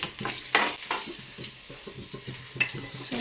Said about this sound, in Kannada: ಸೊ ನಮ್ಮ ಅಕ್ಕ ಫ್ರೈ ಮಾಡ್ಕೊತಾ ಇದ್ದಾಳೆ